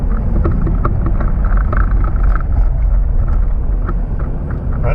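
A Jeep KK Liberty with an NSG-370 six-speed manual and B&M shifter on a test drive, giving a steady, loud engine and road rumble with wind buffeting the microphone throughout.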